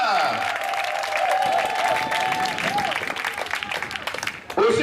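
Church congregation claps and cheers to acclaim the Lord, a steady loud wash of applause with crowd voices and sliding musical tones over it, briefly dipping near the end before swelling again.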